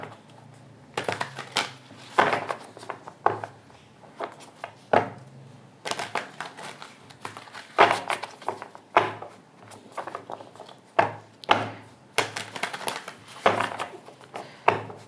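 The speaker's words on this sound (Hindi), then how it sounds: "तो हम पहले कार्ड्स को यहाँ पे शफल कर लेंगे" Tarot cards being shuffled by hand at close range, heard as repeated quick riffling and slapping bursts separated by short pauses, with no talking.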